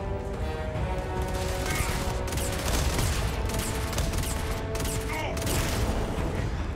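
Weapon gunfire in the video game Starfield, a continuous loud barrage of shots and booms layered over constant game noise, with no break in the firing.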